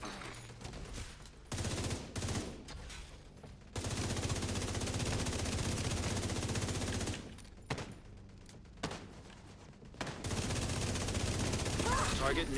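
Turret gunfire in a video game: long, loud sustained bursts of rapid automatic fire, broken by short pauses and quieter gaps, with dense rattling volleys dominating most of the stretch.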